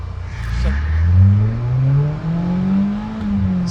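A four-cylinder BMW M3 engine revs hard under acceleration in a short first gear, its pitch climbing steadily and loud and close, with a brief dip midway as the revs build again.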